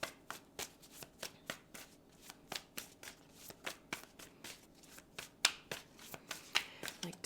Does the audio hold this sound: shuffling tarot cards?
yes